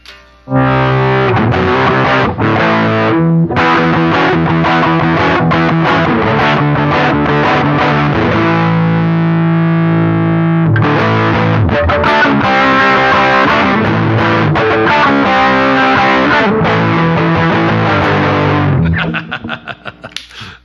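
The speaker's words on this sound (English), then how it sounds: "The Marshall artist, it does those great vintage sounds, the Plexis and all that stuff that we love" A distorted electric guitar through a Bearfoot FX Martial Artist overdrive pedal, a Marshall-style tone, plays loud, saturated chords and riffs up close, ringing out for a long stretch before fading at the end; nobody speaks.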